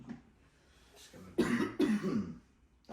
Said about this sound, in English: Just coughing, bro.